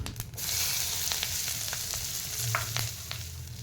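Nigella seeds, a medium onion and green chillies frying in leftover oil in a kadai, giving a continuous bright sizzle with a few light clinks.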